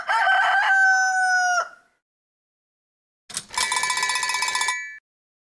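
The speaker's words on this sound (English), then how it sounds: "To whom does this sound belong? A rooster." Two loud rooster crows with a short silence between them, each a long, harsh, wavering cock-a-doodle-doo close to the listener.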